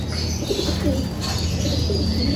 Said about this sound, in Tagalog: Bali, tapos na nga silang maligo, mga kalapatids.